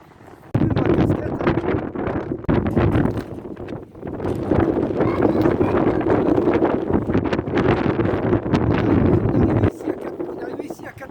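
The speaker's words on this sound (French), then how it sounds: "il y a un vent incroyable." Very strong wind blows across the hilltop at the Saarpolygon monument, gusting hard into the microphone with loud, rough buffeting for most of the stretch, easing briefly midway and dropping at the end.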